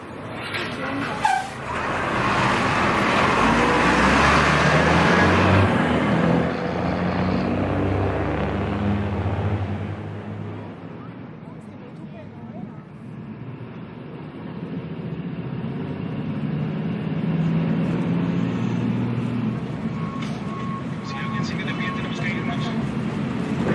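Night bus under way, a loud low rumbling engine and road noise that swells early, eases off midway, then settles into a steadier drone at moderate level.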